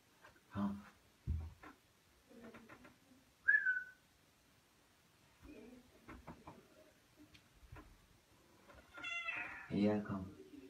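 A cat gives several short meows spread through the scene, fairly quiet, alongside a person talking and coaxing it, with a brief whistle-like chirp in the middle.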